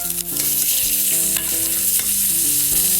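Brined pork chops searing fat side down in a hot pan give a loud, continuous sizzle that runs steadily beneath background music.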